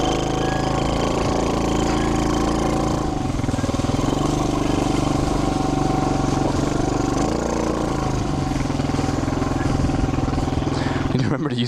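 A motorcycle engine runs steadily and loudly throughout, with low rumbling and slight rises in revs as the bike is ridden, close up and continuous with a voice heard briefly over it.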